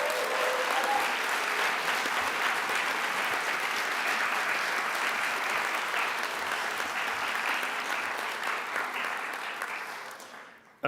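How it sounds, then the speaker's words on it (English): A crowd gives sustained, dense applause at an annual general assembly, clapping loudly and evenly for about ten seconds before it fades out abruptly. "if you can please give them an applause"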